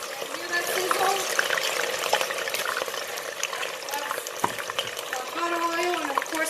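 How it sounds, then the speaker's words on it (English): Wet plantain pieces sizzling and crackling in hot oil in a deep fryer while making Puerto Rican mofongo, a steady close bubbling hiss with small pops throughout. "That's hot oil, and of course making contact with wet plantain."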